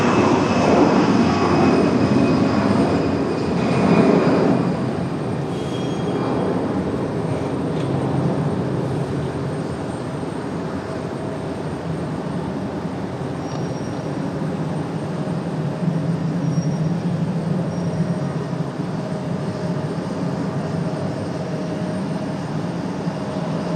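An airliner at Raleigh Durham International Airport gives a steady, broad engine roar that holds loud and continuous throughout, swelling slightly near the start, with no talking over it.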